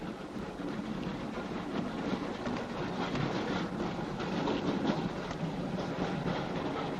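A train running on rails in a horror film set aboard a train, a steady, continuous rumble and rushing noise that holds evenly throughout with no speech.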